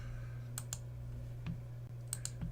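A couple of sharp computer mouse clicks, as in a right-click, sound close and clear over a steady low electrical hum, with no talking.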